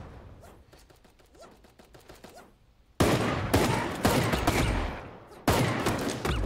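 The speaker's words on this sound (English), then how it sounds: "Oh no! They're shooting at us." Video game gunfire arrives in two loud, sustained bursts of rapid shots that cut in abruptly after a quieter stretch of softer noise.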